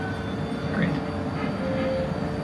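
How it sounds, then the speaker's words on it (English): A low, steady rumble of a slow-moving studio tour tram at Universal Studios, Los Angeles, travelling about 8 to 10 miles an hour, with a faint whine and a few muffled voices in the background. "Now this tram only goes about 8 to 10 miles an hour"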